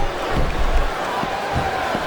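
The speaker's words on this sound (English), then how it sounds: "This capacity crowd is making their opinions known tonight." A video game arena crowd from WWE SmackDown vs Raw 2007 gives off a steady, dense roar with scattered shouts and thumps, loud and continuous throughout the short stretch.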